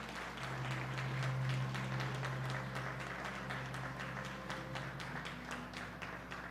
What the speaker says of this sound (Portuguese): Aplaudam ao Senhor Jesus.